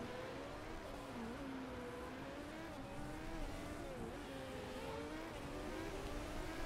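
Race cars lapping in Motorsport Manager, a continuous engine whine with wavering pitch as cars run through their laps, moderately loud and steady, with faint tire noise.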